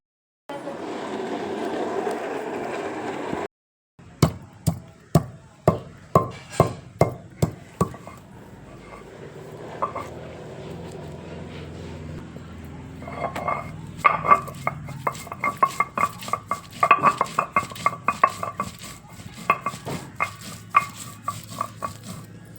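Masala paste for a spicy bitter gourd curry being ground on a stone, with a run of sharp rhythmic knocks and scrapes, close and fairly loud, after a brief burst of noise at the start.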